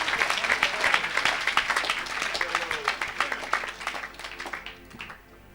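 A church congregation at a gospel service claps in a steady, fast rhythm with scattered cheers, fairly close and moderately loud, fading out near the end.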